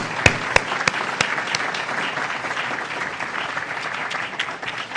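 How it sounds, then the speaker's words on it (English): Audience applause at a university lecture series event, a steady round of clapping from a modest crowd in a hall, opening with a few sharp close claps and continuing evenly for several seconds without speech. "Please join me in giving a round of applause to our friends and ESF graduate, Dal Travis and Sigrid."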